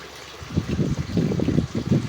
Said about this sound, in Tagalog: nag-ulan na gid man diri amo na nga ang tubig is masulog na siya